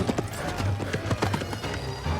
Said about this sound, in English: How'd you feel about the fact that he's on a horse?